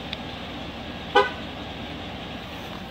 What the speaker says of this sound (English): You'll hear a horn honk each time if you're successful.